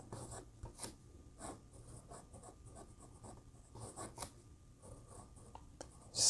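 Scratchy writing with a Wing Sung 698 fountain pen using Diamine amber ink, close and quiet, short irregular strokes of nib on paper that repeat throughout.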